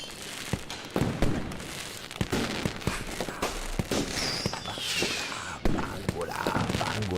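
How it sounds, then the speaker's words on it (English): Animated fireworks sound effect played with music: repeated sharp pops and crackles, busy and fairly loud, over a dense musical bed. "use again these beautiful animations of the fireworks"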